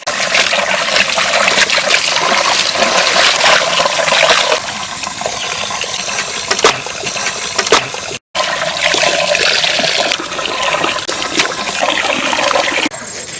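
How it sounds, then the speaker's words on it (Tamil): Raw chicken is washed with water and turmeric powder in an outdoor village kitchen, producing a continuous loud splashing and gushing of water with sloshing handling throughout and a brief break near the end. "மஞ்சத்தூள் போட்டு கழுவிக்கலாம்."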